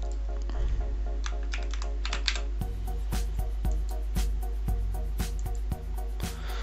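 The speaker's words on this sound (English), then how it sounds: "you type in search bar here Winget." Someone types into a search bar on a computer keyboard. Crisp, close key clicks come in a quick irregular run, then spaced single presses, over a low steady hum with a brief voice early on.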